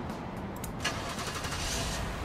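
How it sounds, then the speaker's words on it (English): A car engine starts up and settles into a steady running drone in the Roadside Assistance Simulator video game, a continuous mid-level hum with no talking. "Engine's running smoothly now."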